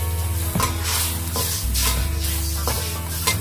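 Wood ear mushrooms and beancurd are stirred in a pan with about 100 ml of water, a spatula scraping and clinking against the pan in a regular rhythm over a steady bubbling sizzle, close and without talk.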